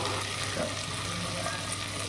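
Spices sizzle lightly in a pan while kattu pongal is being cooked, a steady, soft frying hiss that runs the whole time with no pauses, close by and without talk.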